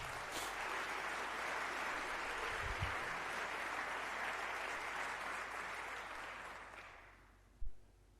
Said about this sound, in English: I would like us to give him a round of applause